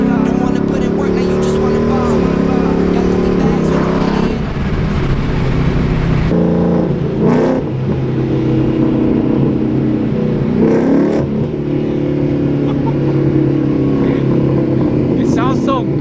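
A catless Ford Mustang fitted with new loud mufflers revs in a deep, rumbling, sustained roar with a few swells and dips, close and loud throughout.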